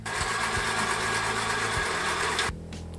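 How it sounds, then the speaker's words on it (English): Sewing machine stitching mint corduroy trousers into shorts, a fast steady mechanical whir with rhythmic needle thumps running loud and close for a couple of seconds, then cutting out to a quieter hum. "Now let's sew this together."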